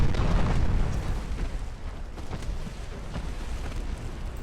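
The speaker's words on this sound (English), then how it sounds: "Oh, torpedo hit." A torpedo hit in the naval warship video game Ultimate Admiral: Dreadnoughts lands as a loud, rumbling explosion that starts heavy and slowly fades into a long, low roar, with no talk.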